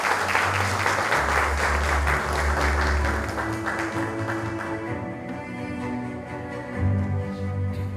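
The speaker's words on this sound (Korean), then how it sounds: "여러분 박수로 맞이해 주시기 바랍니다" An audience at an international drama forum in Korea breaks into loud, sustained applause welcoming a speaker, dense clapping that gradually thins out, with low background music underneath.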